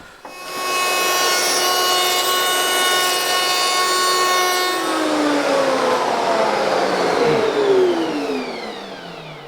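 A power saw makes a mitre cut through wood, a loud, close, sustained whine that holds steady and then drops in pitch as the blade bites and winds down, with no talking.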